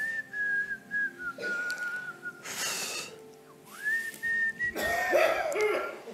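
Loud human whistling from close by, with long sustained tones that glide and bend. Breathy gasps and bursts of noise come between the phrases.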